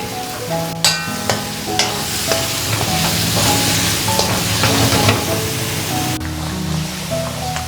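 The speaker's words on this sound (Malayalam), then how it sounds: "ഇനി നമ്മുടെ അരപ്പ് മിക്സ് ചെയ്യുക അതിലേക്ക്" Steady sizzling of spice paste in a hot frying pan with scraping and stirring strokes throughout, loud and close, with no voices.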